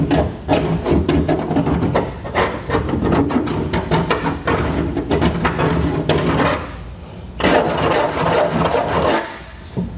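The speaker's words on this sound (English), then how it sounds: "go back with a file and get some of those burrs off" Steady rasping and scraping strokes of a hand file deburring a drilled hole in metal, repeated continuously and fairly loud, with a few brief pauses between passes.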